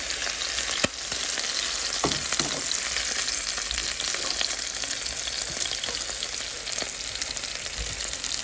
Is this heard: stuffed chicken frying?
yes